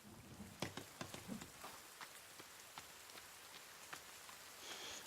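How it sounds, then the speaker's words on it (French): Rain falls steadily in The Forest video game, a soft, even hiss of drops with a few sharper spatters early on, faint and continuous with no voices. "est-ce que mon feu va s'éteindre parce qu'il pleut?"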